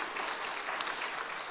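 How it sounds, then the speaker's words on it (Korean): A congregation at a Wednesday church service applauds in welcome of a speaker, a soft, steady patter of clapping heard from a distance, with one slightly sharper clap. "다시 한번 박수로 환영해 주시기를 바랍니다."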